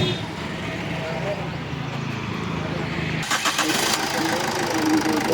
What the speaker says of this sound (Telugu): ఓకే అన్న, ఇంజిన్ అయితే స్టార్ట్ చేశాను